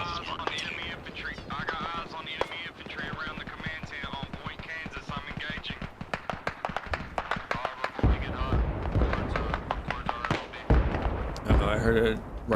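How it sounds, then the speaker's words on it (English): Gunfire in the military shooter Arma Reforger, a rapid string of sharp cracks and pops running through the scene, mixed with in-game noise and someone talking over it. "Uh-oh, I heard a rifle shot to my right."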